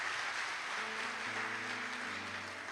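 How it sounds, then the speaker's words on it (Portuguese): Sustained audience applause from a church congregation, a steady dense wash of clapping filling the whole moment with faint musical tones underneath. "Pode dar um aplauso para Jesus."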